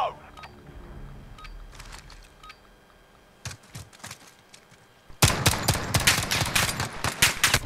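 Call of Duty Modern Warfare gameplay gunfire: scattered shots early, then dense rapid automatic bursts crackling loudly in the final seconds, with a player's voice talking in between.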